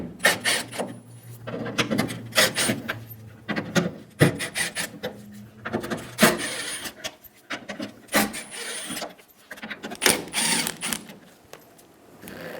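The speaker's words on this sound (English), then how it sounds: "Using a T30 bit, we're going to remove the 7 bolts holding on this molding." Seven bolts are backed out of the tailgate molding on a 2005-2015 Toyota Tacoma with a T30 bit, giving repeated close ratcheting and rasping bursts in uneven, rapid runs with short pauses between them.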